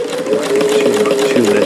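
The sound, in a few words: Davis vertical feed long needle sewing machine stitching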